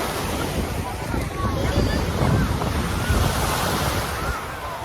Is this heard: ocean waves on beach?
yes